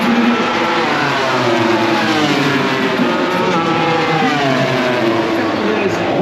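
MotoGP racing motorcycles pull away at the Grand Prix de France in rain-wet conditions, engines rising in pitch together as they accelerate, loud and continuous under a commentator's voice.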